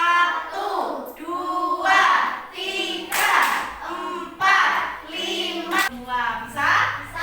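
A class of fifth-grade children claps along during a counting game, with their chanting voices running over the clapping throughout, in bursts with short pauses between.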